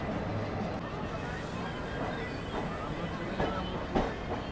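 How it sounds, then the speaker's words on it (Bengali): A Gangasagar Express train pulls into Naihati Junction station on a cloudy, drizzly day, its steady low rumble and faint wheel clatter filling the platform while voices murmur nearby. "এই মুহূর্তে আমার ট্রেন এসে পৌঁছালো নৈহাটি জংশন রেল স্টেশনে"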